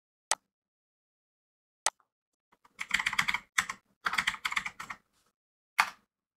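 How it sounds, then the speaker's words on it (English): Keystrokes on a computer keyboard while entering a web search on a Windows 11 PC: two isolated taps, then two quick bursts of rapid typing and a final single keystroke, close and clear with no talking. "on your browser, type Google Fonts."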